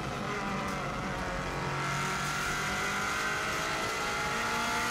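A 2016 Subaru WRX STI races at full throttle up a hill on the Isle of Man TT course, its engine roaring loud and close in a continuous pull, with no speech.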